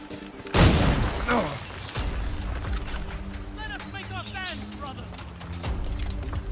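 Gunpowder barrels blowing up in Assassin's Creed gameplay: one sharp, booming blast followed by a rumbling tail, then ambient clatter, with someone narrating over it.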